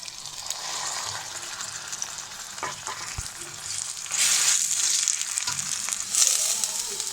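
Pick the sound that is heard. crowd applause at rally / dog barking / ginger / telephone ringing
ginger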